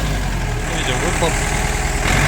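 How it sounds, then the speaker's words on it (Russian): The diesel engine of a Mitsubishi MT24 4WD tractor idles steadily with a low, even rumble, close by, with a voice briefly audible over it. "Холостые у трактора очень ровненькие."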